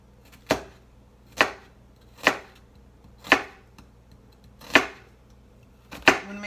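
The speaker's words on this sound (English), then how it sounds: "I'm going to take and cut little slices almost all the way through" A sharp knife cuts lengthwise slices into a halved onion on a cutting board for fajitas, six crisp, evenly spaced chops close to the mic, each followed by quiet, with no talking.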